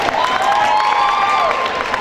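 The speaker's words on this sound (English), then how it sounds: "One more round of applause for Ndidi." A loud crowd at a university talent show claps and cheers after a performance, with high whoops and shouts riding over continuous close applause.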